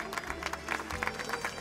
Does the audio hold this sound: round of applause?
yes